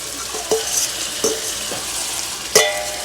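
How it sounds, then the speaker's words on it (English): Okra goes into a hot pan with herring, producing a soft sizzle with a few sharp clinks and scrapes of a utensil, close and fairly loud over a short span. "So now I'm going to add my okra."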